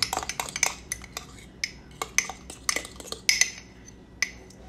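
A spoon stirring keto bread mix in a mug, with quick, irregular clinks and taps of metal against the mug that come in short clustered bursts and then more sparse strikes, close and fairly quiet.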